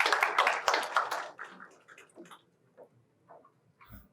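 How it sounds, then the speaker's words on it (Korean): Audience applause at a Seoul briefing session for disability independent living centers bursts loudly, then thins out and fades to scattered faint claps within about two seconds. "박수로 부탁드리겠습니다"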